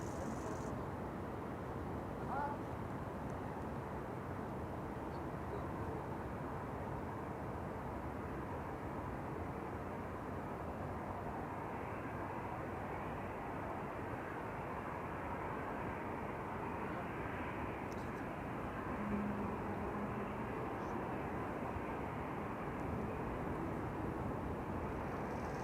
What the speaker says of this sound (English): now I can hear the engines.